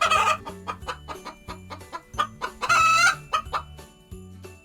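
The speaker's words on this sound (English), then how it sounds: "The hen cackles." A hen cackles in quick, repeated clucks with one longer drawn-out squawk in the middle, close and lively over a soft musical backing.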